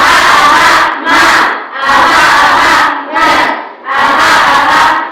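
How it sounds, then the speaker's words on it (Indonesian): A group chants together in loud, rhythmic bursts, about four surges with short gaps, close and energetic like a clapping cheer. "Tepuk semangat."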